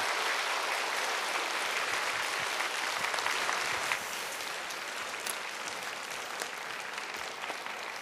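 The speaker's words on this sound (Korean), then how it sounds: "우리 선교사님 나오실 때 우리 또 기대하는 마음으로 큰 박수로 우리 맞이해서 말씀을 듣겠습니다." A church congregation applauds to welcome a missionary to the pulpit, a full, even wash of clapping that holds steady for the whole stretch, slightly softer toward the end.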